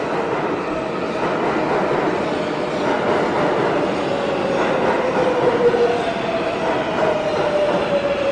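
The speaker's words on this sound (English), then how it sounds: "I think I hear the train finally coming." A train arrives at a station in a radio play, a loud, steady rumble of rolling wheels with a rising whine from the rails that builds across the whole stretch, with no voices.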